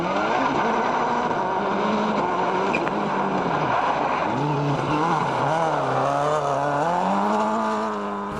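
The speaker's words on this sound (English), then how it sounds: "Wow! And that's a power slide." A World Rally Championship rally car power-slides through a corner, its engine roaring loud and close with rising and falling revs as the back steps out, a steady blaring drone throughout.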